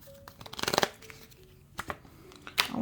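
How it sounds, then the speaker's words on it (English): A deck of cards is shuffled in a brief riffle burst, then a couple of shorter flicks, close and fairly quiet during a tarot reading. "I want to shuffle this deck again."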